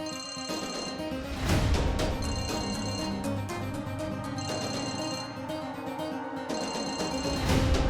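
A telephone rings loudly in a domestic TV drama scene, repeated bell-like bursts in a steady on-off pattern over a music bed.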